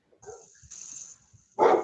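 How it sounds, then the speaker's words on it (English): XL bully dogs barking and yipping indoors, a few softer whimpers and a thin high whine leading into one loud close bark at the end. "Sorry, my dogs are barking."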